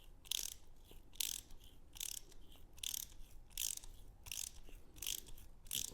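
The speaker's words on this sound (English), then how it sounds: "And then I'm just going to use the ratchet to send it through." A ratchet wrench turns a die to recut damaged threads, giving a steady series of about eight short, sharp clicking bursts in even rhythm, close and fairly quiet with no voices.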